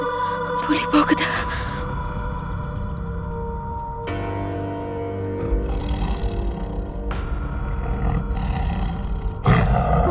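Tiger roaring in a film scene, deep loud roars rising and falling in bursts across the stretch, layered with background score and other film sound.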